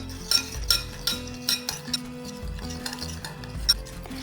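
Salt, black pepper powder, ginger paste and oil being mixed in a bowl with a spoon, a quick irregular series of close clinks and wet scraping strokes, with faint background hum.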